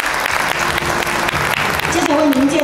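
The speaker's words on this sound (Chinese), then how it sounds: "我们掌声欢迎" Dense applause from a Rotary Club joint meeting audience greets a former district governor as he is introduced, sustained for a couple of seconds before a voice begins talking over its tail.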